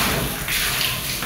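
Water splashes steadily onto a bedroom floor during apartment cleaning, a continuous close rushing wash with no talk.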